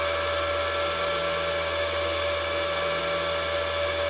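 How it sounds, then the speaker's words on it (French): A Bitmain Antminer L3+ ASIC crypto miner runs hard, its cooling fans producing a loud, steady, close whooshing drone with a constant tonal whine throughout, and no voices. "voilà ce que ça donne un ASIC qui tourne fort"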